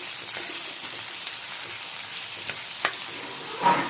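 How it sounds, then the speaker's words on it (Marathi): Onion and garlic frying in a pan for vangyach bharit while being stirred, giving a steady close sizzle with a few soft scrapes and a sharper clack near the end. "लसूण टाकल्यानंतर कांदा टाकलेला आहे मी. हलवायचं."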